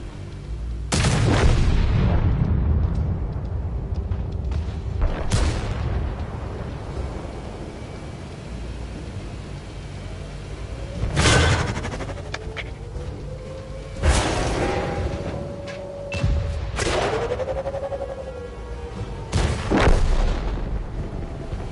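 World of Tanks cannon shots: several heavy booming blasts spaced a few seconds apart, each with a sharp crack and a low rumbling tail, over steady engine and battle noise.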